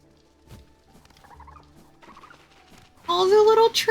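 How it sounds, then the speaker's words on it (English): Little creatures in a video game chirp in short, soft calls, then a louder burst of bright, warbling chirps at the end. "Oh, the little chirp sounds are so cute."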